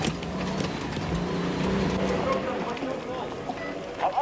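Cockpit noise inside a Toyota off-road racer during the 1995 Rustenburg 400, a steady loud engine drone with rattles and road rumble throughout, and a voice talking over it.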